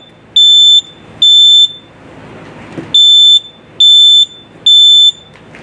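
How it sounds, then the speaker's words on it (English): A household smoke detector alarm sounds five loud, piercing electronic beeps in an even pulsing rhythm, separated by short quiet gaps. "We're going to talk about smoke detectors today."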